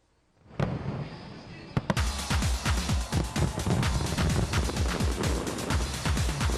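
Fireworks at a New Year's Eve festivity in Colombia, a rapid stream of booms and crackles that fills the whole stretch after a short quiet opening, loud and dense with no voices over it.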